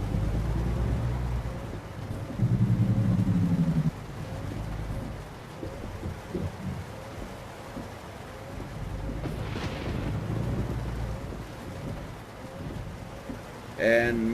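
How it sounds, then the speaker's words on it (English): Rain falls in the trucking game American Truck Simulator, giving a steady wash of rainfall with low rumbles of thunder, and a voice speaks briefly over it. "because it's raining, it's going to rain the entire trip"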